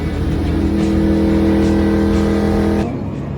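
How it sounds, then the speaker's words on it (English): A race car at about 180 mph, heard loud and close as a steady, sustained engine drone with a constant pitch that cuts off near the end. "180 miles an hour for real inside a race car."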